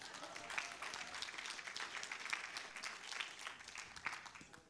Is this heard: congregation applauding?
yes